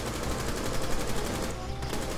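Continuous rapid automatic gunfire in Rainbow Six Siege, a dense, loud burst of shots that carries straight through with no pause and no voices.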